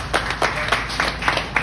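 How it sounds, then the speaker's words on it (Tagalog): Scattered audience clapping at a live comedy show in Cavite, a handful of sparse, evenly spaced claps from the crowd, close and moderately loud, with no talking. "Mga Pinoy talaga, palakpak agad."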